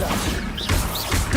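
A Bombarda spell blast in Hogwarts Legacy bursts into loud smashing crashes with whooshing swishes, two or three impacts in quick succession.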